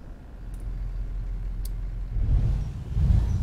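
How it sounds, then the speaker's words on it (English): Engine of a Scania truck in Euro Truck Simulator 2, heard from outside: a steady low rumble that swells louder toward the end, with no one talking. "And we should have the standard Scania sounds that we normally have in here."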